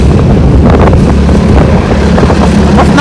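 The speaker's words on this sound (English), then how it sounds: "I don't understand why it's so windy." Strong, blustery wind buffets the microphone outdoors on a cold day, a loud continuous low rumble with gusty swells and no clear speech.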